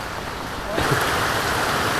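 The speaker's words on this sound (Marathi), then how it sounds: "पाऊस बघा जोरदार पडतो" Heavy rain pouring down in a Konkan village, a dense steady hiss that grows louder partway through, with no talk.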